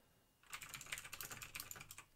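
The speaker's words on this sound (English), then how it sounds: "That might be really loud. Sorry about that typing." Rapid clicking of a computer keyboard being typed on, a steady patter of keystrokes starting after a short quiet moment, close by and fairly soft.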